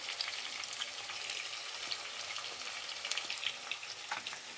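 Ginger paste hits a pan of frying onions and potatoes, giving a constant crackling sizzle with scattered spattering pops and occasional stirring scrapes, heard up close without talk.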